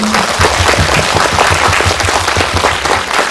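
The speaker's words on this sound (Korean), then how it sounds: "감독님과 출연자분께 큰 박수 부탁드리겠습니다" Audience applause at a film screening's post-show talk with the directors and cast at an indie cinema, steady dense clapping filling the whole stretch, loud and close.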